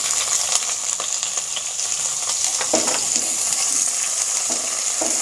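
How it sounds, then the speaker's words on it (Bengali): Onions tipped into hot oil for a yellow split pea dal crackle and fizz loudly up close, a steady sizzle punctuated by several distinct scrapes of stirring, without speech. "এবার পেঁয়াজ ঢেলে দিলাম।"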